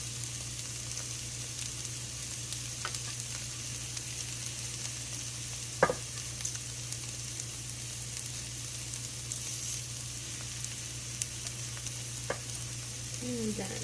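Beef, peppers, celery and onion sizzle in an oiled pan for a stir fry, a constant close crackling hiss with a few sharp clinks and scrapes of a utensil stirring through the food.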